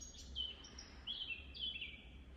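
Birds chirp and trill outdoors in a few bright, high phrases over a low steady background hum, moderately close.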